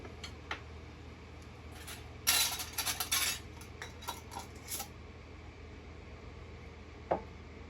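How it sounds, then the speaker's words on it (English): A tiny whisk stirring sugar into mead, making a burst of quick metallic clinking and rattling against the container for a couple of seconds, then lighter scattered taps and one last clink. "I'm really just mixing that sugar up."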